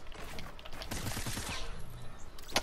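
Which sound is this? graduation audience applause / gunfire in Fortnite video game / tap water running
gunfire in Fortnite video game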